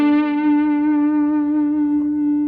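An overdriven electric guitar plays a lead tone through a neck single-coil pickup, one held note ringing with long, even sustain for over two seconds, loud and close with no talking.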